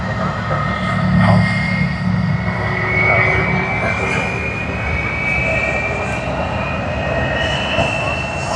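A DHL cargo plane at Sydney Airport sends out a moderate jet engine drone with a slowly rising whine. Some faint background sound runs underneath, and no one talks.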